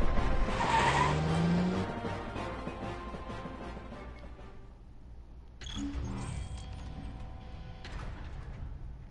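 The Regalia car in Final Fantasy XV drives with a steady engine rumble and mechanical whirring. Tires squeal early on, a sliding, door-like mechanism sounds midway, and a steady game tone runs underneath.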